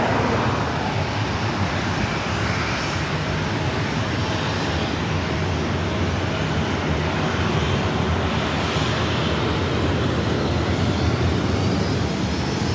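A Southwest airliner takes off from runway 24 right at Los Angeles International Airport, its jet engines producing a loud, steady, broadband roar that fills the whole stretch without letup.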